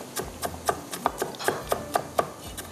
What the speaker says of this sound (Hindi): इसके बाद इसमें जाएगा ये प्याज को भी थोड़ा सा हम बारीक चॉप कर लेते हैं।